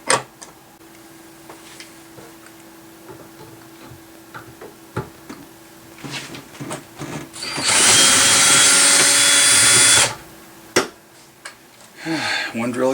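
Hand drill spinning against the chuck of another hand drill on a floor drill press setup, a loud continuous whir for a few seconds amid scattered clicks and knocks, with brief talk around it.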